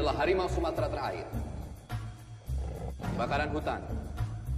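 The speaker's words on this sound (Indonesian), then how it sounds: "Harimau Sumatera terakhir." A Sumatran tiger gives deep, loud roars in a feature film, with repeated roaring bursts over a dense mix of sounds and speech.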